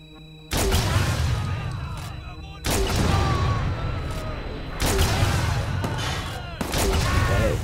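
Grenade explosions and gunfire in the video game Watch Dogs 2: four loud, heavy blasts with rumbling tails, each hitting abruptly and decaying into the next in a dense, continuous barrage.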